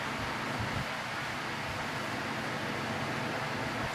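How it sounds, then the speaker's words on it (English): Steady wash of road traffic at rush hour drifts in through an open window, a continuous low rumble and hiss with no single car standing out, fairly distant and unbroken by talk. "you're going to hear like a lot of car noises because I have my windows open"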